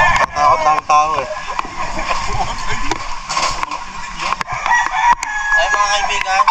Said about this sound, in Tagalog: sa sobrang dami ng mga manok dito